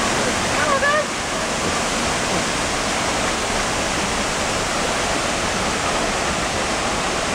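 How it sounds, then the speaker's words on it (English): Looking Glass Falls waterfall heard up close, a loud, steady, broadband roar of falling water that stays constant throughout with no other sounds standing out. "a close-up of looking glass falls, probably 40 or 50 gallons an hour fall"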